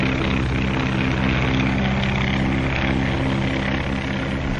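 A 1935 skywriting airplane's propeller engine drones loud and steady overhead throughout, a continuous rough buzzing roar with no voices.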